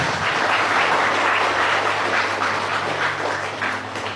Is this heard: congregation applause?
yes